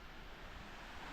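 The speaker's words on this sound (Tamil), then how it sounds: "தண்ணி நல்லா உழுவுது" Steady rushing roar of Beema Falls in the Jawadhu Hills, dense and unbroken, heard close with a broad, hissing texture and no voices.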